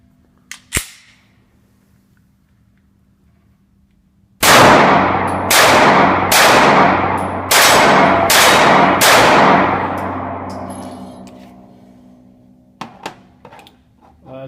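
Five loud, sharp Glock 43 pistol shots fired with a flat magazine, spaced about a second apart, each with a ringing outdoor tail, after a single earlier click or tap and followed by faint handling clicks.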